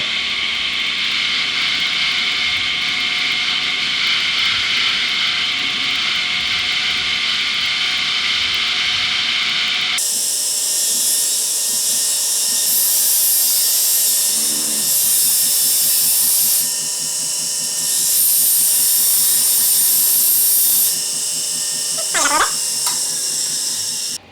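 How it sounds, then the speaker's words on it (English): A deburring wheel polishes a quick-release handle from restored machinery. A loud, steady high-pitched whine holds, then shifts in tone partway through as the part is pressed against the spinning wheel. "Now over here to the deburring wheel to give a little polish to the quick handle"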